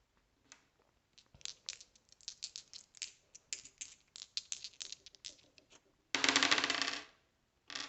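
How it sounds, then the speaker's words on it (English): Dice rolled during a game of the DOOM board game, a run of close, clattering taps and rattles tumbling across a hard surface, followed by a louder burst of scraping rattle, with no one speaking. "he's going to roll the dice"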